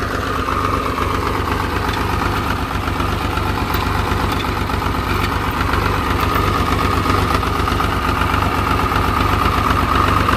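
An old Swaraj 735 FE tractor engine without power steering idling nearby, a steady low chugging rumble with rhythmic knocking pulses that continue evenly throughout.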